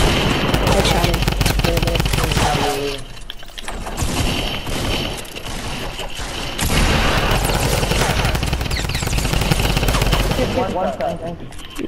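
Video game gunfire in a squad match, dense bursts of shots and thuds running almost continuously with a few brief lulls, while players talk over the action.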